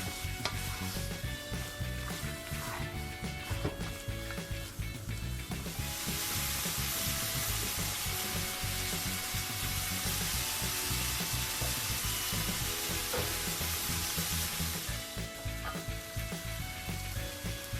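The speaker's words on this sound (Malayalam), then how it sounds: "കുറച്ചുകൂടി കറിവേപ്പിലയിട്ട് വഴറ്റാം" Chicken sautés with curry leaves in a pan, a loud steady sizzle and frying hiss close up with intermittent stirring scrapes, swelling stronger through the middle section, with no talking.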